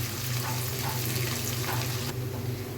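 Onions, green chilies and whole spices such as cardamom and cinnamon fry together in a pot for one-pot chicken biryani, giving a loud, even hiss over a low steady hum that cuts off sharply near the end.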